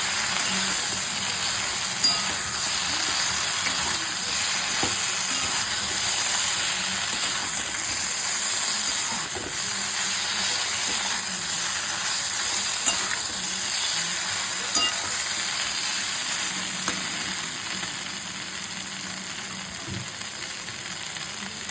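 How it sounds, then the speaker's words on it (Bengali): Fried chhena boras are sautéed in gravy in a pan, giving a loud, dense, continuous sizzle and bubbling with faint stirring scrapes throughout. "বড়াগুলো এবার ঢেলে দেব, দিয়ে এর সাথে কষিয়ে নেব।"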